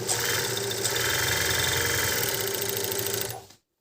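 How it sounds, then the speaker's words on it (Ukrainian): A Prima overlock sewing machine runs at a constant fast mechanical whir and rattle, close and steady, then slows and stops. "Такий цікавий оверлок."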